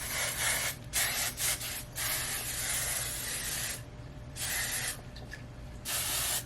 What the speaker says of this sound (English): I'm gonna spray some of this comb through finishing mist